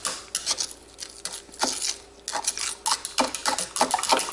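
Home-brew wort for a Ghost Ship clone pale ale is stirred with a sanitised thermometer, making soft liquid swishes and sloshes that come in uneven bursts, close by, with no talking.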